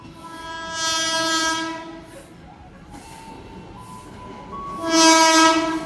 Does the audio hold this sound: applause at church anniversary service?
no